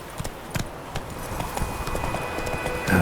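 Galloping horse hooves in The Witcher 3 beat out a quick, irregular clip-clop rhythm at moderate volume, over a low rumbling background.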